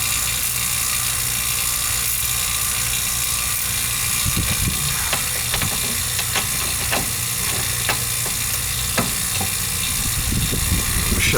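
A socket ratchet clicks on a valve of a home AC system being replaced, a series of sharp, close ticks over a steady droning hum of running equipment, likely a vacuum pump.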